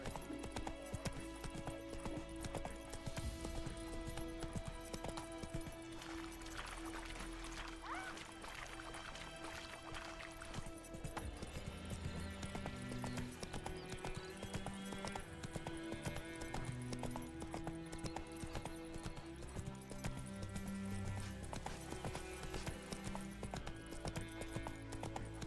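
The horse Roach gallops in The Witcher 3 with rapid, continuous hoofbeats that run under steady game music and ambience for about twenty-five seconds, and no one talks.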